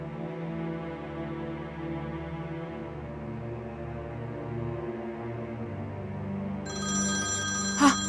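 Telephone ringing beneath a steady musical score, a tonal ring that grows brighter and more distinct toward the end, with no talking.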